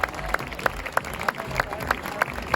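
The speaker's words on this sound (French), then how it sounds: "je veux un tonnerre d'applaudissements pour nos danseurs ici" Audience at a photography fair hall applauding dancers, with steady, evenly spaced loud claps standing out over a dense crowd wash; short and without speech.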